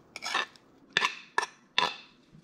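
A spatula knocks and scrapes against a bowl while mixing pumpkin dough made with puree, room-temperature egg yolks, and yeast blended with milk: four sharp, close clinks spaced unevenly, with no talking.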